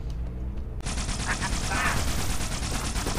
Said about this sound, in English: Who gave me this laser gun?